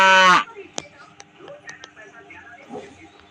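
A cow gives one loud, close moo at the very start, falling in pitch and cut off quickly, followed by faint scattered clicks and low background noise.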